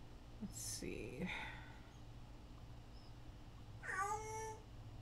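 Two short meows made by a bird imitating a cat, one near the start and one near the end, over a faint steady hum, with quiet breathy sounds between them.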